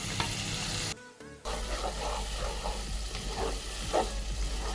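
Dried fish (shutki) stir-fries in a pan, a loud, dense sizzle and crackle close up with stirring scrapes through it and a brief quieter dip near the start.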